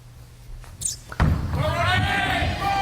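In a professional bowling match, a ball rolls down the lane and crashes into the pins with a sharp thud and clatter, then a rumbling roar follows while crowd or commentator voices sound underneath.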